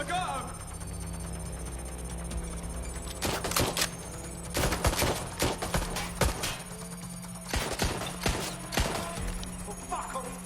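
Gunfire in the video game Watch Dogs: Legion: irregular bursts of sharp shots crackle over a steady hum, clustered volleys arriving loud and close with brief gaps between them.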